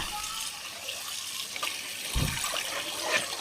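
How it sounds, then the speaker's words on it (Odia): Water splashes and runs continuously while fish is washed in a home kitchen, with a brief louder pour or slosh partway through over a steady wet background. "ପୁଣି ଆଉ ଥରେ ପାଣି ପୁରେଇ ପୁଣି ଧୋଇବ"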